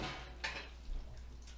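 A hot frying pan is shifted around a kitchen where fish is being fried, giving a soft metallic clatter and a brief knock amid quiet background noise.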